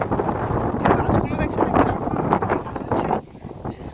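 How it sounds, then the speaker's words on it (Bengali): Strong gusts of a Kalbaishakhi nor'wester storm roar and buffet the microphone in a dense, continuous rush, easing slightly near the end, with a person talking over it. "বাতাসের শব্দগুলো শুনতেও পাচ্ছ বোধহয়"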